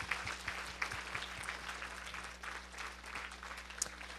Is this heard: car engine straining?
no